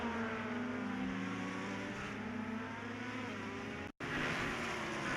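Cadillac race car in the iRacing sim at VIR during an IMSA event, engine roaring steadily with tyre noise as it locks up, a brief cut near the end before the loud engine drone resumes.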